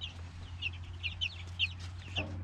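Chickens cluck in a backyard chicken tractor, a run of short, repeated calls at moderate distance over a steady low hum, with a slightly louder burst near the end.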